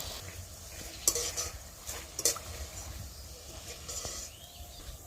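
Drops of gram-flour boondi batter fry in hot oil in a kadai, giving a soft, steady sizzle with a few sharp clinks and taps scattered through it.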